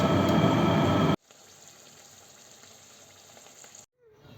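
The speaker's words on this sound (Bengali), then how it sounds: "এখানে আমি কয়েকটা মালপোয়া ভেজে নেব তার জন্য মালপোয়ার জন্য তেলটা চাপিয়েছি" Malpua frying in hot oil, a loud dense sizzle for about a second that cuts off abruptly, followed by a much fainter background hiss.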